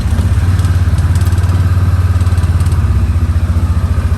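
Massimo T Boss 550 UTV engine running at a steady idle after starting, a loud, close, rhythmic low throb with a faint mechanical clatter on top.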